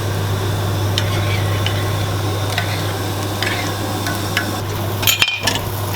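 Soft scraping and clinking of a spoon stirring sweet chutney into a potato paratha filling, light intermittent taps over a steady low hum, with one louder clatter near the end.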